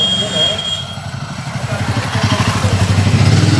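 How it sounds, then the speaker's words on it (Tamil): Motorcycles putter past on a temple street in Gokarna, their engines rising into a close, rhythmic chugging. "நிறைய பைக்கர்ஸ் போயிட்டு இருக்காங்க."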